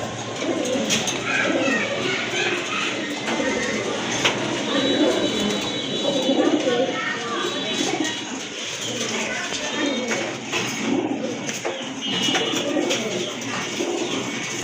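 Pigeons for sale, including white-shirt pigeons, coo in low, throaty repeated calls under a steady background hum, with someone talking over them for most of the stretch.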